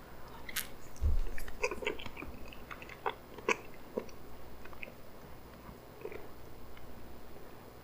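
A bite into a McDonald's chocolate fudge soft serve sundae, then soft, wet chewing with small scattered clicks, close and quiet in a still room with no talking.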